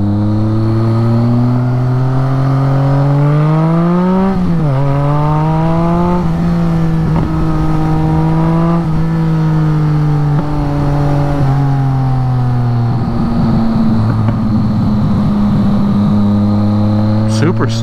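A BMW K75 motorcycle's engine drones loud and close while riding on a sunny road, its pitch rising and falling through gear changes and acceleration, with a rider talking over it.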